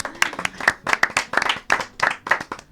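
Scattered, distinct hand claps from a small studio audience after a poetry reading, sharp and close with an uneven rhythm, fairly loud.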